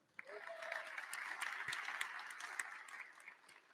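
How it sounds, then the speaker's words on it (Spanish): Audience at a Spanish-language labor reform forum applauding a guest, a soft, distant wash of many people clapping that swells and holds steady, with a brief tonal squeak near the start. "También les pido un aplauso para él."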